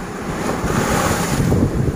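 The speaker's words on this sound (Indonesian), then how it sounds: "Ini keadaan pondok kita kalau sudah musim ombak, jadi gelombang tinggi itu." High waves in the wave season pounding the shore near a seaside hut, a continuous loud roaring surf with heavy wind buffeting the microphone, no voices.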